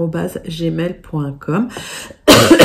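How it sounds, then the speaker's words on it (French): Someone speaks briefly, then a short, harsh cough bursts out loudly at the end. "je tousse encore un tout petit peu"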